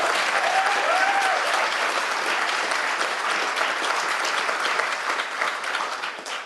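A large audience at an evening talk with comics writer Warren Ellis claps in a sustained round of applause, dense and steady throughout, fading slightly toward the end.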